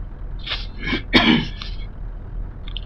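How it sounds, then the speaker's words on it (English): A single cough with a short throat-clearing burst rings out mid-clip over a low steady background hum, close and fairly loud. "Another cough."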